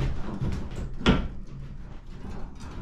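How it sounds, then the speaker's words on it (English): A wooden shed door, converted into a temporary chicken coop, is slid shut, giving a single short scrape and knock in a quiet setting. "So then to close the door, you slide it in at the top."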